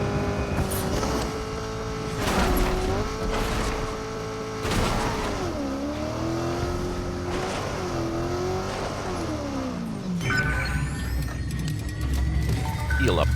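A car in Fortnite drives on with a steady engine drone that rises and falls in pitch as it speeds up and slows, loud and continuous, with a brief screech near the end.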